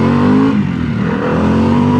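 Harley-Davidson Pan America 1250 Special motorcycle engine revving up close, a loud steady rumbling growl with rising pitch.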